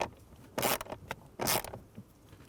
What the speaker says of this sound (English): I'm going to tighten these up just a little bit so it can hold the blower motor securely onto the